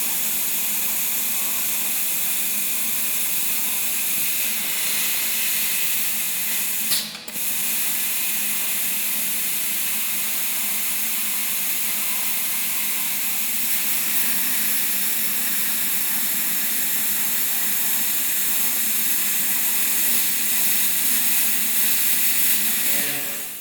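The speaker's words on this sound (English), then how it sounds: "what I've done is taken the plasma cutter to this muffler" A plasma cutter slicing through a car exhaust muffler: a loud, continuous harsh hiss that runs throughout, broken by one brief dip early on, with no talk.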